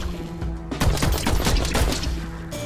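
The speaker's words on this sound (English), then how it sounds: "It's like a space rifle." Space rifle fire in the VR shooter Vertigo 2 rattles out in a rapid burst of close, punchy shots lasting about two seconds, with a steady hum before and after.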